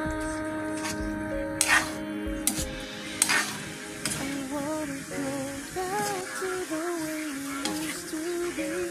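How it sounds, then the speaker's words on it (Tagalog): Adobong atay, chicken liver adobo with chili, stirred in a pan, soft scraping and sizzling with a few sharper clinks, beneath a wavering voice-like tone and background sound throughout. "Tapos haluin."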